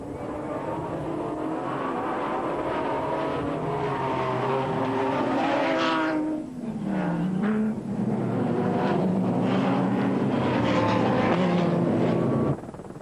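Off-road race cars roar together at the start of a 24-hour all-terrain race in France in 1995, a loud continuous engine din from many vehicles with revving pitches rising and falling throughout.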